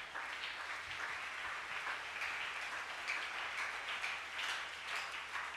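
Church congregation clapping hands during a worship service, a steady wash of applause sustained throughout, fairly faint and distant.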